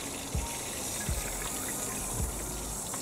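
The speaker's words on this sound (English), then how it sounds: "he's going to slowly take the turkey out, let it hang, slowly go in here, allow the juices to drain out" Hot oil and juices draining from a fried turkey lifted and hung over the fryer, a steady gushing, trickling liquid hiss with a few soft low thumps, fairly close and without talk.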